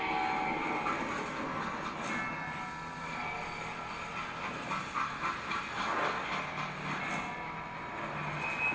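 A freight train in the Call of Juarez Gunslinger video game rumbles and clatters along with steady rolling noise, hissing steam and recurring metallic rattles, heard up close and continuously with no voices.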